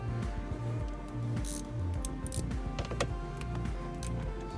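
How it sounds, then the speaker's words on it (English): A 7mm socket backs out screws on a Ford Expedition door panel, giving a quick run of close, dry ratcheting clicks and ticks in an uneven rhythm. "you have to remove these two screws right here, 1 and 2, using the 7mm socket"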